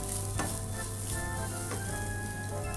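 Green chili and chili powder sautéing in a pan for Kerala egg roast, a steady close sizzle with a few scraping stirs and a low hum running underneath.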